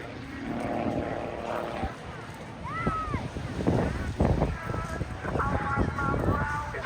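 A stunt aircraft's propeller engine drones through an aerobatic display at the Eastbourne air show, its harmonic whine rising and falling as it manoeuvres overhead, with wind buffeting and faint voices underneath.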